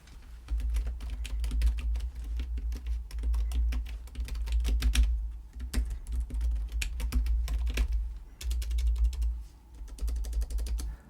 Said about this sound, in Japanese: 打鍵音はこのような感じです。